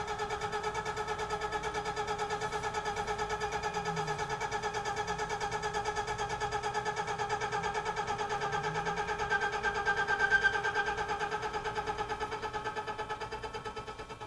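A 2-inch slitting saw on a Tormach PCNC 1100 CNC mill, turning at 500 RPM with a 5 inches-per-minute feed, gives a steady, even machining drone with a constant tone that holds for the whole stretch, with no talking.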